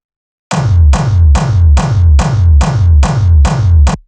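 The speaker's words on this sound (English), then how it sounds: "it's almost like metallic, but it's got that like pulled out bass" Time-stretched techno bass sample pulsing in eight loud, evenly spaced hits, each a metallic, smeared burst with deep booming low end and a drawn-out, grainy decay, alone with no voices.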